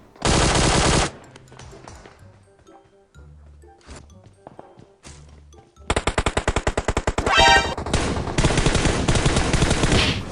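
Automatic gunfire from a PUBG Mobile match: a loud opening burst, scattered quieter shots and clinks, then a long sustained volley of rapid shots near the end.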